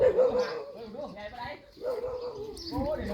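A dog barks and whines in a home setting, short yelping calls mixed with people talking nearby.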